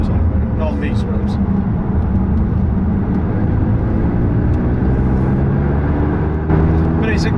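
McLaren 675LT sports car driving on public roads, a steady low engine drone and road rumble filling the cabin throughout, with voices talking over it.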